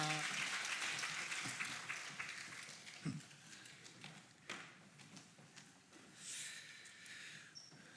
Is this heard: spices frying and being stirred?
no